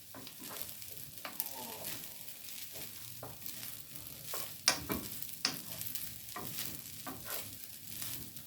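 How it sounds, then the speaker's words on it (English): Cooked rice being stirred into an egg mixture in a hot frying pan for egg and bacon fried rice, giving a steady soft sizzle broken by repeated scraping strokes and a few sharper utensil knocks, close and alone. "now you're going to stir your rice into your egg mixture"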